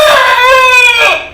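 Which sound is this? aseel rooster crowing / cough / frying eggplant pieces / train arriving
aseel rooster crowing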